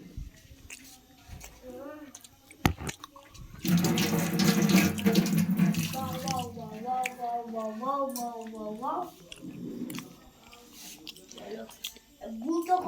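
Water splashes and runs loudly during a cold-water bath, a sustained gush in the middle with scattered drips and splashes around it, under intermittent voices.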